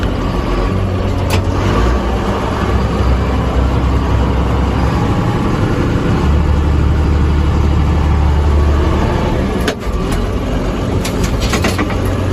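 A 2000 JCB Fastrac 3185 tractor engine runs steadily and loudly up close, a continuous low diesel drone with shifting load as it moves through the gears, plus a few sharp clicks and clunks near the end.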